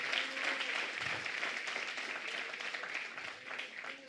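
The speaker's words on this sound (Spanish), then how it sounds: "si va a aplaudir, délo fuerte para Dios" A church congregation applauds steadily during a sermon, a dense, even patter of clapping that stays fairly loud and continuous throughout without a clear break.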